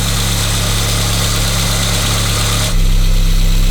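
A 1986 Volkswagen Mark II Scirocco engine idles steadily while warming up on its automatic choke, a constant low, even drone with a slight step up in level near the end and no voices.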